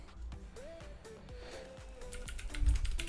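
A Ducky Creator Mecha Mini keyboard with clicky blue switches is typed on nearby, producing a quick run of sharp, crisp clicks at an uneven pace.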